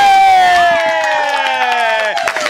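Audience applause and cheering at a store's anniversary celebration as a raffle winner is presented, rising under a loud descending musical sting and continuing as claps and shouts.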